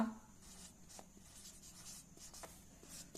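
Pen writing on paper while working a class 7 math problem, faint close scratchy strokes coming in short irregular bursts.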